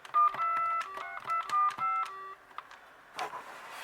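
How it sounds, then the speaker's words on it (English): A VTech CS-6858 DECT 6.0 cordless phone sounds a quick run of close, clear keypad tones, followed by a short gap and a faint handling noise. "Even this one has a better dial tone."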